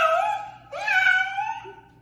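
A person imitates a cat with two drawn-out, whiny meow-like cries, loud and close, separated by a short pause.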